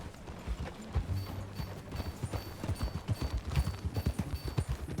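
Horse hooves clip-clop steadily while riding in the video game Red Dead Redemption 2, a brisk rhythmic gait that grows louder and denser toward the end, with low rumbling underneath and no talk.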